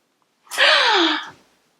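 A single loud, breathy gasp, a sharp intake of air lasting under a second, heard alone with silence on either side.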